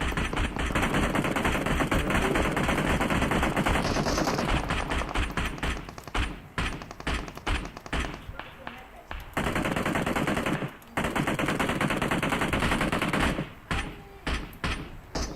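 Automatic gunfire in PUBG Mobile, long loud bursts of rapid shots broken by short pauses and then choppy clusters of single cracks, close and dominant with little else audible.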